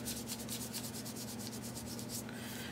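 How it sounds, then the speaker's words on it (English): Side of a paintbrush rubbing gold paint onto a sheet music wreath, a soft, continuous rhythmic scrubbing of bristles on paper in quick repeated strokes, close and quiet. "I kind of take the side of my brush and kind of rub it in a little bit."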